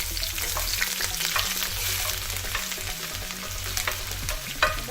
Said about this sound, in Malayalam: ഇതിലേക്ക് അരിഞ്ഞു വെച്ചിരിക്കുന്ന വെളുത്തുള്ളി ഇഞ്ചി ഇട്ട് കൊടുക്കുക.